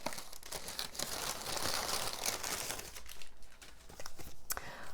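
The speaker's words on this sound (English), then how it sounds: "Sorry for the rustling again." A plastic package bag holding newly arrived yarn is handled up close, giving continuous crinkling and crackling rustles with sharp crunchy bursts throughout, and no talking.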